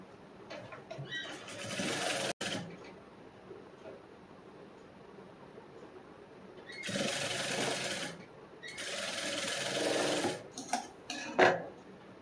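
A sewing machine stitches a blouse hem, running in bursts of rapid stitching with pauses between, moderately close, with faint talk at times.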